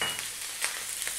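Chopped onion hitting a hot pan with browned pork ribs, a steady bright sizzle with soft crackles and occasional stirring scrapes, close and alone without talk.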